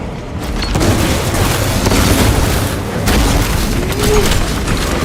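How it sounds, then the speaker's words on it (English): A grenade explosion in a video game, a loud continuous booming roar with rumbling blast noise that fills the whole stretch, heavy and close. "Grenade released!"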